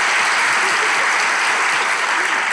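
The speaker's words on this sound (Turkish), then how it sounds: "Coşkulu alkış" Enthusiastic studio audience applause on a Turkish talk show, a loud, dense and continuous roar of many hands clapping at once, sustained evenly throughout.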